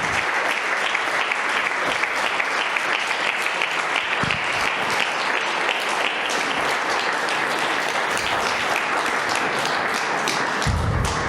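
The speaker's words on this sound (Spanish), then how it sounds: "Denle el aplauso al Señor." A church congregation applauds during a sermon, with loud, dense clapping sustained for about eleven seconds and almost no voice over it.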